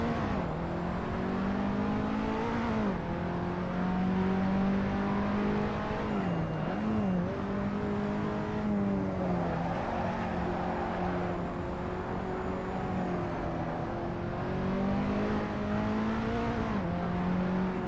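A race car engine in Assetto Corsa at Mugello drones continuously, rising and falling in pitch as it revs up and eases off through gear changes. It sounds close and steady throughout, with no talking.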